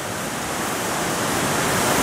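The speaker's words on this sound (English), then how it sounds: "down here by this cascading waterfall" A cascading waterfall on Mill Creek in Giles County, Virginia roars steadily and close, a dense broadband rush of falling water that never lets up, with no voices over it.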